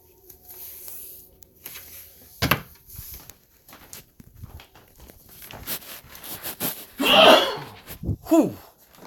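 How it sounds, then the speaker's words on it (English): A single sharp human sneeze bursts out loudly in a room, set against faint background music and scattered rustling and footstep-like knocks, with a quick breathy exhale just after. "Sorry, I had to sneeze."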